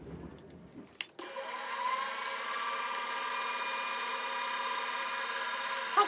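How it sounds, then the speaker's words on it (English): Vacuum cleaner running upstairs in a house, starting abruptly after a brief knock and then droning at a steady pitch, muffled and somewhat distant. "The wife's got the vacuum out."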